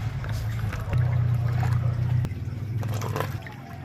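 Water is poured into a homemade water pump for a so-called free energy setup, a steady watery rush close by, briefly swelling and then easing off.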